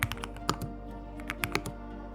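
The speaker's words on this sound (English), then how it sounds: "the Flow 2 completely changes how typing feels" Someone types on a Flow 2 keyboard at a desk, a quiet, close run of irregular key clicks with a few sharper taps.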